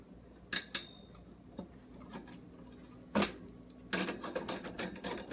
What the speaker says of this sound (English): You place this here, and then you insert these two screws.